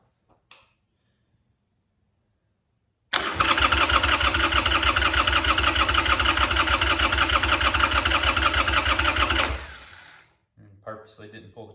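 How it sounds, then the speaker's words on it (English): A Harley Sportster motorcycle engine cranks on its starter for several seconds, a loud, close, rapid mechanical whirring that stops abruptly without catching, followed by brief talk and small handling noises. "I'm going to turn it over, fire it up."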